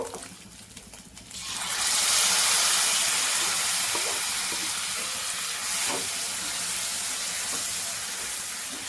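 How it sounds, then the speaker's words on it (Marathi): Finely chopped tomatoes added to fried crushed garlic and green chili, rising into a loud, steady frying hiss after a quieter start, with faint spoon clinks. "टोमॅटो ऍड केल्यानंतर त्यांनाही आपण फ्राय करून घेणार आहोत लसूण आणि हिरवी मिरची मध्ये"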